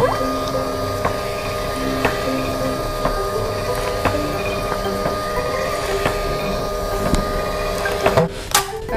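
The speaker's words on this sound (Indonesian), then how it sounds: "Kita print dulu guys." A printer runs steadily for several seconds with a repetitive mechanical whir and periodic clicks, then ends in a brief louder rattle.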